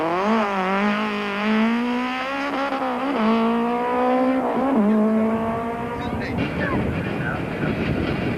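Four-wheel-drive Volkswagen rally cars race around a tight course, engines loud and close, pitch sweeping up through the gears and dropping on lifts for corners before fading into a rough, broad roar.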